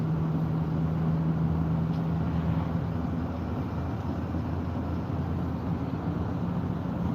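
A 2019 Duramax diesel dually truck drives along with a steady, muted engine drone and faint clatter, a continuous rumble with no voices.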